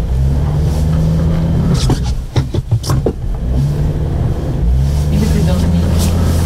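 A Suzuki Jimny's engine revs hard while stuck in deep snow, a steady low drone rising and falling through strained acceleration, loud and close, with people talking over it.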